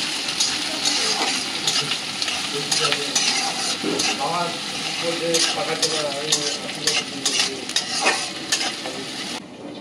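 Onion frying in a pan for a chorchori, stirred with a spatula, giving a loud close sizzle with repeated scraping strokes and a little background voice.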